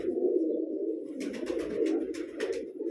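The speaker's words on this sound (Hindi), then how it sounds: "ये कबूतर मेरे पास गिफ्ट में आया था" A Deobandi pigeon with white claws coos in a low, throaty, repeated rumble close by, with soft rustling or flutter sounds breaking in over the second half.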